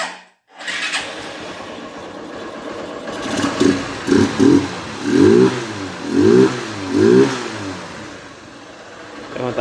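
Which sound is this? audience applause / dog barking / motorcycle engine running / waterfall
motorcycle engine running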